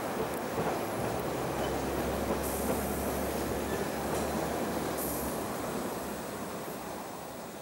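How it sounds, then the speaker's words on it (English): A six-car diesel multiple unit train pulls away from a country station on a branch line, a steady low engine drone and rolling rumble that slowly fades, with no talk. "A six-car DMU arrives from Weymouth and, after depositing parcels and what few passengers have alighted, pulls away to the next stop at Frome."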